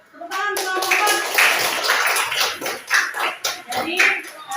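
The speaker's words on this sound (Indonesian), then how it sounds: "Tepuk tangan untuk kelompok 4" Schoolchildren applauding for a group in a classroom, brisk uneven clapping with sharp hand claps and children's voices mixed in throughout.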